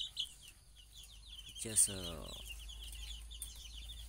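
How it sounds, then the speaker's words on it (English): Small baby chicks inside a little cottage peep and chirp in quick high repeated calls, a brief voice cutting in midway, over a quiet low hum. "small chicken, small baby chicken inside a cottage"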